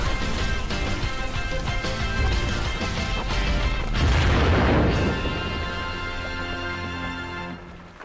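An anime explosion spell from Konosuba erupts as a loud, sustained booming blast over a swelling orchestral music score, peaking midway and then slowly fading out.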